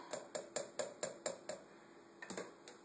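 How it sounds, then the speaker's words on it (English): A spoon stirring freshly brewed tea for kombucha, a faint, close run of regular clinks against the container's side, about eight evenly spaced taps followed by a few quicker, softer ones, without talk. "So stir that around"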